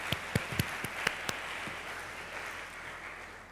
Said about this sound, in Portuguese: Vou pedir uma salva de palmas para a Renata Dias.